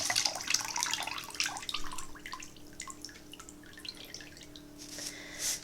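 Water drains through a strainer of freshly rinsed dry beans in a kitchen sink, with steady close dripping and trickling that swells briefly near the end.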